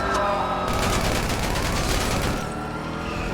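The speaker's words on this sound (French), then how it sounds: "Là, c'est juste des tirs pour prévenir que je suis énervé." Rapid gunfire rattles loudly in a video game police chase, a dense burst of shots over roaring engine noise that thins out near the end.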